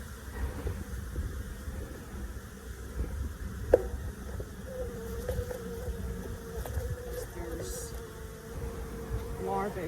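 Honeybees buzz around an open hive as they are shaken back in, a faint, continuous drone with brief clunks of handling and a low voice nearby.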